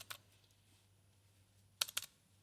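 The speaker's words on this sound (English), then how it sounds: "Oh, if I could type right." Computer keyboard typing in two short bursts, a quick pair of keystrokes then a cluster of rapid clicks, close and crisp over a faint low hum.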